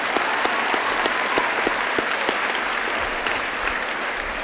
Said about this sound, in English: So just a quick round of applause for Daniel.